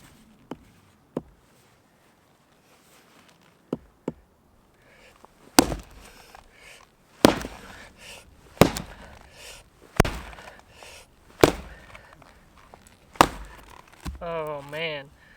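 A small Council Tool Camp Carver hatchet chopping wood for a hot tent stove: sparse light taps at first, then a run of loud, sharp chops every second or so, with a voice briefly at the end.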